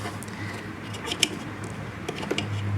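Rubber hose being cut on a Nissan RB26 engine, a few quiet snips and crunches spread over a few seconds, close and faint over a low hum.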